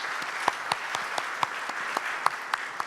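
Light, scattered clapping from a small audience at a government strategy meeting, individual sharp claps spaced irregularly and fairly quiet.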